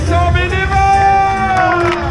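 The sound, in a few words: crowd applause and cheering at marathon start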